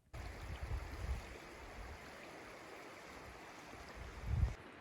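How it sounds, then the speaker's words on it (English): A river at a spring recreation site flows as a faint, steady rushing wash, with a few soft low thumps breaking through and no voices. "There's a beautiful river here."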